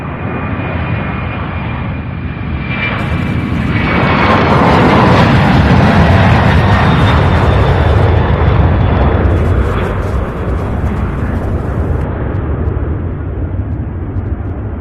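Boeing 767 jet airliner departing Louisville International Airport for Orlando, a loud, sustained roar of jet engines swelling and holding for the full stretch, with broad low rumble and a steady high whine overhead.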